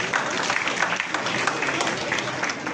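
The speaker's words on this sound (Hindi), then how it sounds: "एक बार जोरदार तालियों से" A conference audience at an international Urdu journalism bicentenary gives a burst of dense, loud clapping that stays steady for the whole short stretch.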